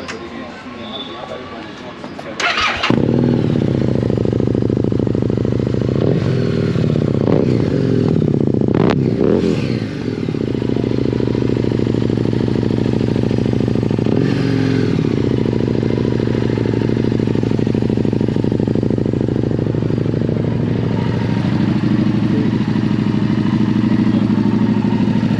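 Harley-Davidson cruiser motorcycle with an aftermarket exhaust, revving loudly and steadily at close range with a deep, continuous rumble; a voice speaks briefly before it starts.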